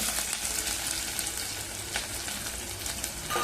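Finely chopped onion sizzles in hot oil tempered with cumin and mustard seeds for a Maharashtrian abai bean pod bhaji, a dense, steady close-up frying hiss with small crackles throughout.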